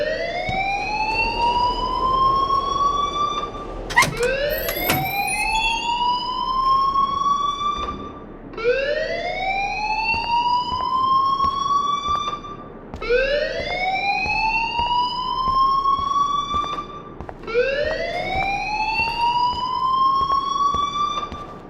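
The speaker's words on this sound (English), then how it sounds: "please turn off that alarm since that's your job" A fire alarm in a video game wails in repeated rising siren sweeps, about five long cycles that each climb and then restart, loud and continuous over faint background.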